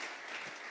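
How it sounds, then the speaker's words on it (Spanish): A church congregation claps their hands together in a steady wash of applause, faint and distant, heard alone for a brief moment. "Vamos a regalarle ofrenda de palmas al Dios de la gloria."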